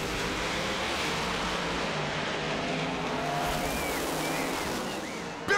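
An NHRA Pro Modified drag racing car with a 903 cubic inch nitrous-injected Ford engine roars loudly and continuously at full throttle, a dense, harsh drone with faint tire squeals, fading slightly before a sharp final burst.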